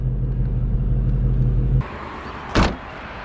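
A VMP supercharged Ford Mustang idles with a deep low rumble that cuts off as it is parked, followed by a short thud like a door, nearby and alone.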